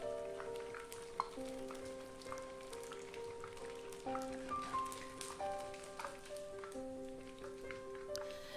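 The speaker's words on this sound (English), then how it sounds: "Fry the tempeh until golden brown." Tempeh frying in a pan for a Malaysian-Indonesian vegetable stew in coconut milk, a steady crackling sizzle with scattered pops, heard under soft background music.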